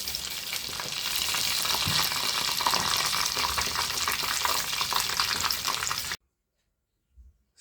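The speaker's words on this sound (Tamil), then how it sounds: "கொஞ்சம் மீனை வந்து திருப்பி விட்டுக்கிறேன்." Fish frying in a pan and being turned over, a loud sustained sizzle with stirring and scraping that cuts off abruptly into near silence, followed by a faint brief knock.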